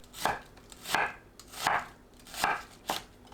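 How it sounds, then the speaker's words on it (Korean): A knife slices an onion into thick rounds on a cutting board, producing about five distinct, evenly spaced chopping thuds close up, with no talk. "양파를 1cm 두께로 썰어줍니다"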